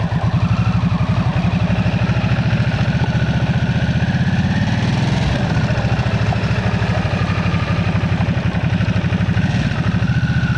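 Harley-Davidson Nightster 975 with the new Revolution Max engine rumbles steadily at close range, a loud, even throb that holds without a break for about ten seconds.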